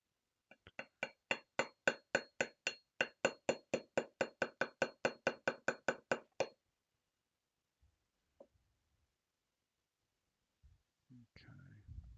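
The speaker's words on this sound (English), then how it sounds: "the front sight has a pin that's retaining it, so we'll have to tap that pin" A hammer taps out the retaining pin of a 1911 pistol front sight on a TISAS 1911 with a rapid, even series of about twenty-five sharp metallic clinks, followed by quiet and a few faint handling knocks.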